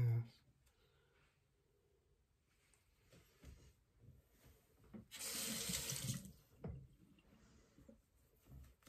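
Water runs from a tap to wet a brush during a skin care routine, a steady close hiss lasting about a second. A quiet voice and small clicks are heard before it.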